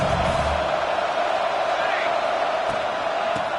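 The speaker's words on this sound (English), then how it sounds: "the crowd coming to life here, trying to help this defense down in the red zone" Football stadium crowd at a college game between OU and OSU roaring steadily as a sustained, far-off wall of noise to urge on the defense near the goal line, with no pauses.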